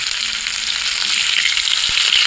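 Chicken leg pieces fry steadily in hot oil, giving a dense, continuous sizzle that holds close and even throughout, with a few faint clinks and no voices.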